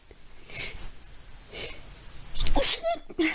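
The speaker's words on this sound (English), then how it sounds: "Hold on, I'm gonna sneeze." A woman sneezes once, loud and close, after a few soft sharp inhalations, and a brief breathy sound follows.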